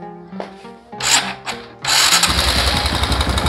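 A motorcycle engine fires up partway through and settles into a loud, steady idle with a busy metallic clatter from a noisy, rattling cam chain running through it.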